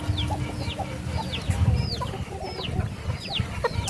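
Chickens cluck repeatedly in a farmyard among ducks, short rising calls coming close and loud in an irregular run with some distant bird calls, and no one talking.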